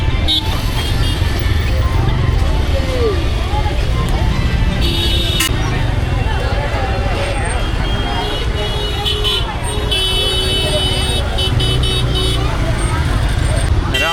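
Riding pillion on a motorcycle through chaotic Indian road traffic: steady loud engine and road roar throughout, with repeated car and bike horns tooting close by and passing vehicles all around.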